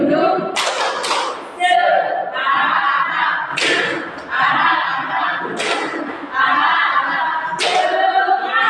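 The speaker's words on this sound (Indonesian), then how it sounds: "Tepuk semangat." A class of students doing a rhythmic spirit clap, with loud bursts of clapping landing in a repeating pattern, a few sharp accents, and crowd voices mixed in throughout.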